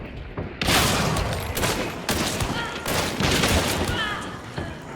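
Nagant Officer Carbine Deadeye rifle firing in a video game, a rapid series of loud sharp shots in quick succession over several seconds amid dense battle noise.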